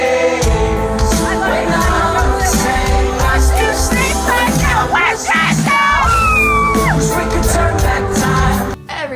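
A concert crowd at a show screams and sings along loudly, a dense, sustained roar of many voices with shouted peaks and music underneath, cutting off abruptly at the end.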